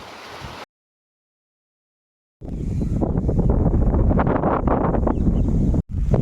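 Stormy wind buffets the microphone beside a river in the Sundarbans: a short burst, a silent gap, then a long loud roaring gust with heavy low rumble.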